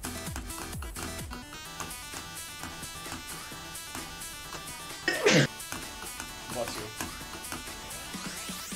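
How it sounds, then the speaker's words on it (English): A single sudden sneeze from a player, loud and close, bursts out over steady electronic game music during a Geometry Dash run. "then like a freaking sneeze came out"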